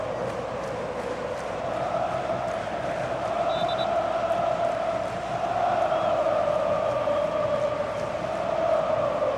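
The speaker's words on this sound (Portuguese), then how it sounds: "A torcida do Flamengo nesse momento um pouco mais empolgada em relação à torcida do Vasco" Flamengo supporters roar in the Maracanã stadium during a Copa do Brasil match against Vasco. A broad, steady crowd din fills the whole stretch, with a commentator talking over it.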